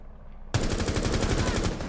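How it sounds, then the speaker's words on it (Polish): Rapid automatic gunfire in Rainbow Six Siege erupts suddenly after a quiet lull, then keeps up a loud, close, rhythmic burst of shots to the end. "Co to kurwa strzela?"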